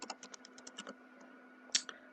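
Code being typed on a computer keyboard in a quiet room, a quick run of about a dozen light key clicks, a short pause, then a few more taps, close and crisp.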